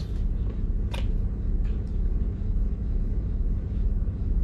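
A boat engine rumbles at a steady low idle while warming up, close and constant throughout, with a few faint clicks and knocks on top.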